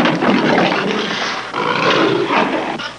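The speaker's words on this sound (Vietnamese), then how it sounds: "Con hổ." A tiger gives a long, harsh, rumbling roar that fills about three seconds, loud and close, with a short break in the middle before it surges again.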